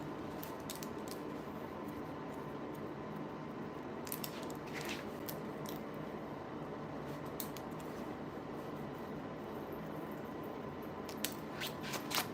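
Scissors snip a client's hair in a salon, with a steady run of crisp close cuts over constant background hum and no talking.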